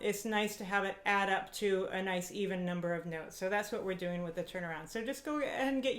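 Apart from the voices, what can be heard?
None of the usual background noises is heard.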